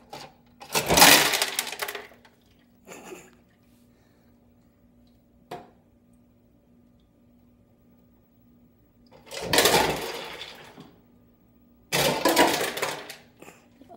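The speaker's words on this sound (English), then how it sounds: "what I love doing is going to ice machines" Hotel ice machine dispensing ice: three loud bursts of cubes clattering and rattling down into a container, each lasting a second or two, separated by near silence and a faint mechanical hum.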